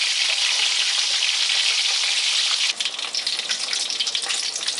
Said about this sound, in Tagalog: So, ngayon, ipiprito na natin yung isda.